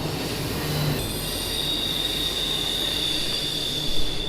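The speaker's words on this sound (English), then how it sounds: "Train's going by, but that doesn't bother the fish." A train rolls past a small winter creek, its wheels squealing steadily in a high metallic whine over a rumbling base, loud and continuous throughout, with no talk.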